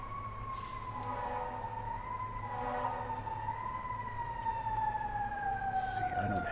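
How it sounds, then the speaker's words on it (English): Emergency vehicle sirens wail outside, a gliding, rising and falling tone heard at a distance over a low traffic rumble, fairly faint and continuous throughout. "Lots of sirens going on."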